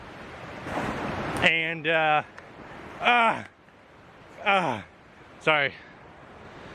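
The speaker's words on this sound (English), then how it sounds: "I'm by this beautiful river and it's kind of loud" A loud river rushes beside a snowy bank, a constant broadband roar that runs throughout beneath a person talking in short bursts.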